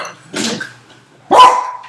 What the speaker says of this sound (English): It's too early for all that barking.